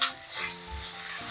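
Ginger-garlic paste sizzles in a hot pan, a steady close hiss with a brief spattering burst at the start and a low hum underneath.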